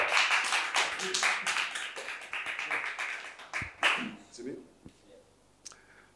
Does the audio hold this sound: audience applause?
yes